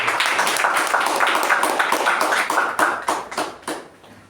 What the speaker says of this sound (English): Let's give a round of applause to both the speakers.